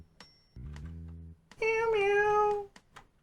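Cat meowing in the Monster Girl Quest Paradox video game: a low buzzing tone followed by a single drawn-out bright meow, close and clear, with no talk.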